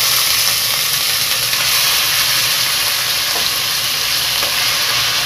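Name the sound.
pork frying in pan with garlic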